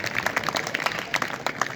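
Applause from an assembled audience welcomes the young brahmachari and brahmacharini students of Gurukul Dobhi and Aryanagar Hisar, a dense steady patter of many hands clapping at moderate level with no speech over it.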